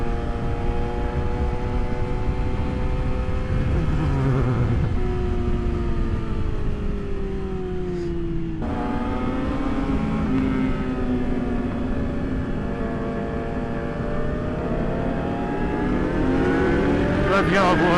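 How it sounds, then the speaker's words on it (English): An Aprilia RSV4 superbike engine roars loudly and steadily during a Sunday group ride of superbikes in Los Angeles, its pitch falling and then climbing again as it revs, close and constant. "That RSV4 is so loud, I can't hear shit."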